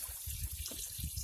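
Water runs steadily into the tub of a Giantex/Costway off-grid RV clothes washer, a soft, close gushing and splashing that stays constant, with no speech.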